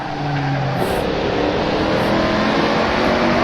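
Race car engine in the Assetto Corsa racing game, driven in wet weather, dropping down to second gear: a loud, continuous engine roar with shifting tones and no speech.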